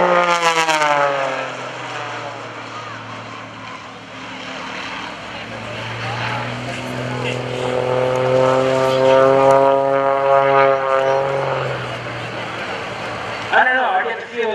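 An aerobatic propeller airplane at the 2014 Greenwood Lake Airshow makes a loud pass, its engine droning with a pitch that sweeps down, then rises as it comes around again, while an announcer talks over it.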